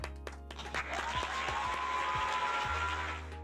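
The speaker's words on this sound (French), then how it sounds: "On applaudit." Brief, moderately quiet applause from a small group at a French film-music discussion after a winner is announced, with a faint tone sustained under the clapping.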